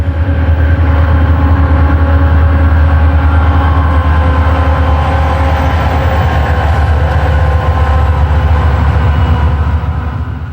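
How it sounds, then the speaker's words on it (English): A Conrail freight train rolls down the main line near South Fork Yard on the Pittsburgh Line, its loud, close diesel rumble and rail noise holding steady throughout, with a low engine drone beneath. "a train is heard coming down the main"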